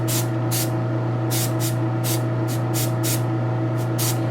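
An airbrush sprays paint onto a garage kit figure in a string of short hissing bursts, about ten of them at irregular intervals, over a steady compressor hum.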